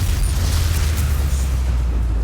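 A deep, rumbling boom from the Confringo explosion spell in Hogwarts Legacy, a single heavy blast with a sustained low roar lasting a couple of seconds.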